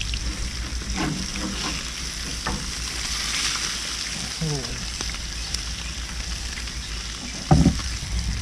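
A blackened fish fillet fries on a griddle and is worked with a wide barbecue spatula, giving a steady close sizzle broken by a few scrapes and a sharp clatter near the end.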